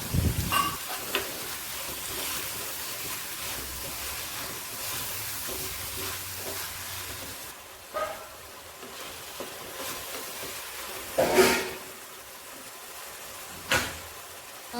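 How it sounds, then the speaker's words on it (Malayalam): Chopped tomatoes added to softened onions sizzle quietly in a pan for a Kerala-style sardine curry, with scraping stirs and clinks of a spoon breaking through now and then. "ഇനി നമുക്ക് ഇതിലേക്ക് കട്ട് ചെയ്ത രണ്ട് തക്കാളി ചേർത്ത് കൊടുക്കാം നന്നായി ഒന്ന് മിക്സ് ചെയ്യണം"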